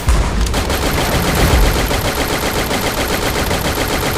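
Rapid automatic gunfire from the mobile battle game Free Fire, with loud, dense bursts of shots running continuously from start to finish and no talking.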